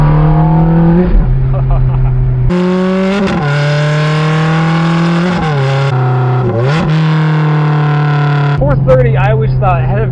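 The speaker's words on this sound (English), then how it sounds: "Of course, the 430 always sounded very raw to me." A Ferrari F430 with a Fabspeed exhaust revs loudly and close, its raw, harmonic engine note climbing and falling through several blips with short pops between, while a voice speaks over it.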